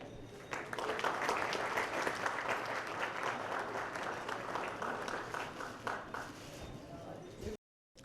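Audience at a Svayamvar matchmaking ceremony in a Mumbai hotel hall applauds a guest. Loud, continuous clapping from many hands lasts about seven seconds, then cuts off abruptly into silence.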